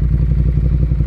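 A 2014 Ducati Monster 1200S engine runs close by with a loud, steady low throb and rapid pulsing beat, heard alone for about a second.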